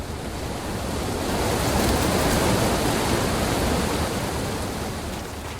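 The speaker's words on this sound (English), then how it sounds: "The waterfall is so loud" A loud waterfall in the video game Asterigos: Curse of the Stars, a steady broadband roar of rushing water that swells slightly in the middle and holds constant throughout, with no voices.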